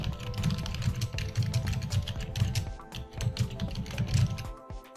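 Someone types on a computer keyboard in quick, uneven bursts of close, clicky keystrokes with short pauses, no voices.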